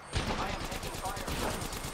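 Gunfire in the Apex Legends video game, a fast rattle of shots under steady background noise with some speech mixed in.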